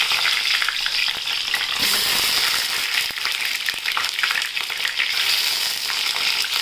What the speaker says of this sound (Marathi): तेल तापत ठेवलं आहे. त्याच्यात आता आपण वांगे तळून घेऊया.